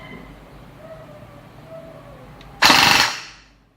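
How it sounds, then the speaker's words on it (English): Lonex AKM airsoft rifle on a Nanotech 2200 mAh 50C LiPo firing one loud, close, rapid full-auto burst of under a second after a quiet lead-in. "So let's see how fast this gun is."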